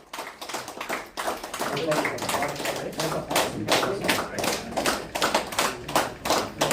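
An audience claps in a steady rhythmic unison, each clap distinct and fairly close, continuing without a break for several seconds.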